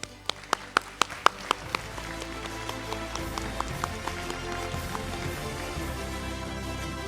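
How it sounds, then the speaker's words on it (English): A run of sharp, evenly spaced claps at the ORY APAC-US Conference 2024 settles into quieter scattered applause with a low musical background underneath, lasting several seconds. "That deserves a big round of applause."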